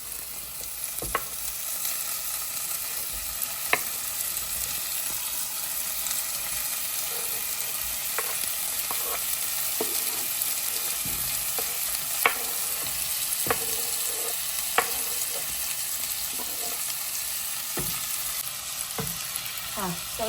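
Garlic and tomato fry in a pan with a steady, moderate sizzle, broken by scattered clicks and taps of a stirring utensil against the pan, close and continuous.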